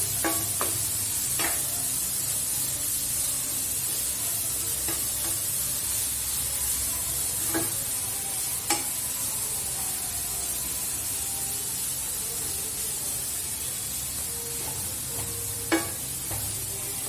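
Grated carrot for carrot halwa is mixed in a hot pan under a constant loud hiss, with occasional sharp scrapes and knocks of the spoon against the metal.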